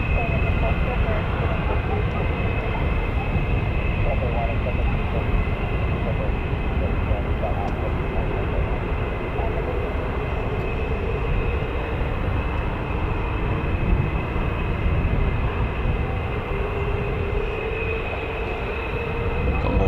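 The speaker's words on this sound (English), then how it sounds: "Got more startups in the background there now." Military jet engines starting up at RAF Lakenheath, home of the 48th Fighter Wing flying F-15s and F-35s, a steady broad roar with a high whine running throughout, continuous and fairly loud with no breaks.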